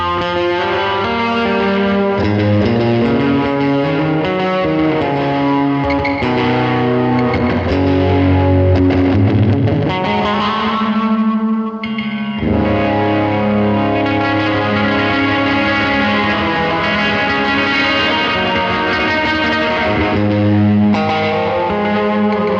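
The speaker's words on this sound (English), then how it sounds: "Super washy, bathed in reverb, kind of got some dirt happening there" Electric guitar played through a Caroline Guitar Company Météor lo-fi reverb pedal, chords and notes washed in heavy reverb with gritty dirt and a chorus-like shimmer, loud and continuous with a brief dip midway, no talking.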